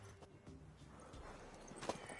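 Horse hooves clip-clop quietly in The Witcher 3: Wild Hunt, a soft run of hoof beats in the game's mix with no voice over them.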